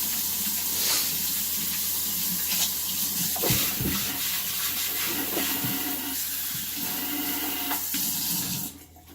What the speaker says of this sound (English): I'm going to rinse my hands real quick.